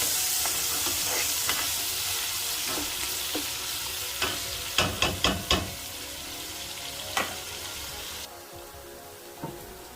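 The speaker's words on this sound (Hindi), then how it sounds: "अब मैंने इसके अंदर स्लाइस ऑनियन ऐड कर दिए हैं। इनको अब हमने थोड़ा सा ना फ्राई करना है ऑनियन को।" Sliced onions fry in hot oil in a pan for a chicken and cluster bean curry, giving a dense, steady sizzle close up with a quick run of sharp spatula scrapes midway, before the frying noise drops lower near the end.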